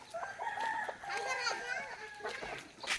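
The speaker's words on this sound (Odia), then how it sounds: "କୁକୁଡ଼ା କିଛି ଖାଇକି ପଳେଇଲେଣି, ଆଉ କିଛି ଅଛନ୍ତି।" Chickens in an Odia village, with a rooster crowing and hens clucking nearby against a busy outdoor background, while people talk and children can be heard.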